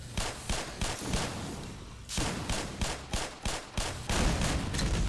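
Rapid bursts of gunfire from Black Mesa, the shots cracking loud and close in repeated volleys with brief gaps, a steady barrage and no voices.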